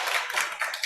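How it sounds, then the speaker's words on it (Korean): A church congregation claps in welcome, a brief burst of quick, close hand claps filling under a second. "박수로 환영합니다."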